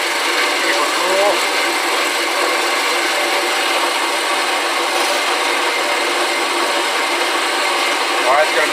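A saw grinds steadily through the rear axle of a 1955 Chevy gasser, a continuous harsh rasp of metal cutting with oil keeping it cool, close and even throughout.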